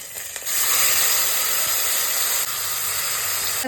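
Tomato puree hitting hot oil tempered with black cumin seeds and two green chillies, a sudden loud steady hiss that starts half a second in and holds strong and close throughout, slightly dropping near the end.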